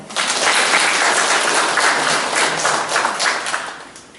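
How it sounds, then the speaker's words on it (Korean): Loud, dense applause from a crowd at a residents' association meeting, many hands clapping steadily and close, holding strong throughout before tapering slightly at the close. "많이 좀 박수도 쳐주시고 호응도 해주시면 고맙겠습니다"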